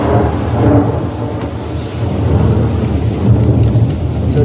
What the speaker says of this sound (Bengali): আর এদিকে দেখো বৃষ্টি হচ্ছে, এই দেখো বৃষ্টি হচ্ছে